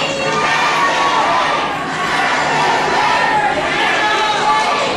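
A big wrestling event crowd fills the arena with continuous cheering and loud chatter, a steady dense roar of many voices with no single sound standing out.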